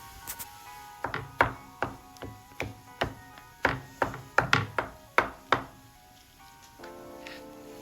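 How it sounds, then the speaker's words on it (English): A baked turkey drumstick is chopped on a board with about a dozen crisp knife thunks in an uneven rhythm, close and fairly quiet, with no talking. "I'm just going to chop that up and add it to the cornbread dressing"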